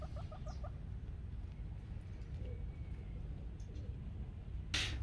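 Brahma hens on a farm give a quick run of soft clucks at the start, then a sharp louder squawk near the end over steady background noise.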